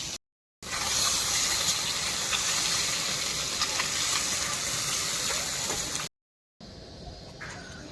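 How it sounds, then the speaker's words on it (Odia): Eggs frying in a pan in a home kitchen, a steady loud sizzle and hiss running for several seconds, briefly cut off, then returning softer. "ଏବେ ଅଣ୍ଡା ଗୁଡ଼ାକ ସବୁ ଭାଜୁଛି"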